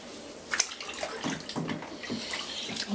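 Water splashes and sloshes in a bathtub during a nearly ten-month-old baby girl's bath, with soft irregular slaps and trickles close by and no talking.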